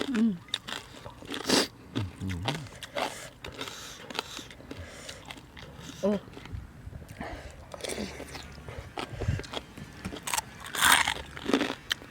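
Someone eats a crunchy Thai pork rind salad (spicy som tam with khaep mu), with close, irregular bites and crunches repeating throughout, quiet and intimate, with a little background voice now and then.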